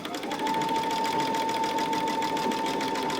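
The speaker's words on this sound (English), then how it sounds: "I'm just going to let it sew" A sewing machine stitches a purse organizer at a steady, even pace without a foot pedal, a close continuous whirring hum with a faint regular tick.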